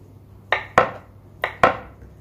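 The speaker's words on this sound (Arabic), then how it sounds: "نستمر في تقطيع البطاطا ديالي ونرجع لكم فاش نسالي" A knife chops raw potatoes into large cubes on a board, giving four sharp, close cuts that land in uneven pairs with brief gaps between them.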